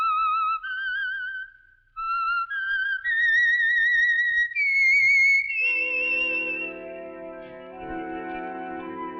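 A signature whistled theme for The Whistler, a Signal Oil radio mystery program, played as a clear, wavering melody of rising and falling notes, then giving way to a sustained orchestral chord, with no talk.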